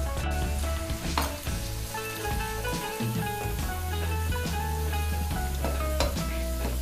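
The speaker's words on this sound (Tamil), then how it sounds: "இதே மாதிரி நம்ம மீதி வச்சுருக்கிற வெங்காயத்தையும் எண்ணெயில் போட்டு பொரிச்சு எடுத்துடலாம்." Onions sizzle and crackle steadily in hot oil, with occasional clinks and scrapes from stirring, close and continuous.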